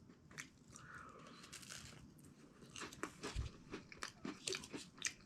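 Someone bites and chews crunchy 1981 MRE crackers, with close, crisp crunches in irregular bursts and quieter chewing between, no talking.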